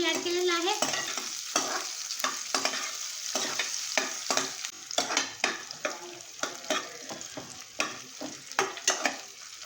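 Sliced onion with cashews fries in hot oil for a pulao, a steady sizzle broken by repeated sharp scrapes and clacks of stirring, close and fairly loud, with no talking.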